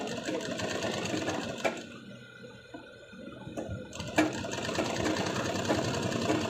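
Sewing machine stitching fabric during hook and placket finishing on a garment, a steady rapid mechanical whir that pauses briefly for about two seconds and then runs again, close and alone.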